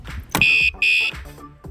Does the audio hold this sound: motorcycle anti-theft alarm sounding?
yes